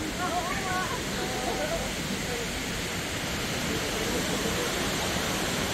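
Waterfall at Watkins Glen State Park, New York, heard from the top of the falls as a steady, dense broadband rush of water, continuous and fairly loud throughout.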